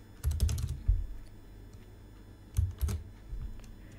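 Python code being typed on a computer keyboard: two short bursts of close, crisp keystrokes separated by a quiet pause, with no talking.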